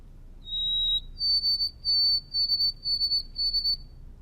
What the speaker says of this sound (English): my favorite, the white-throated sparrow.